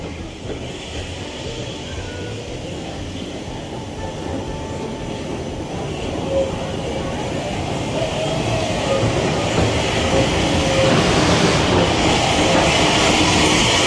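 A Swanage Railway heritage train in Dorset draws in with a steady, building rumble and rail noise that grows louder over about fourteen seconds, with faint voices in the background.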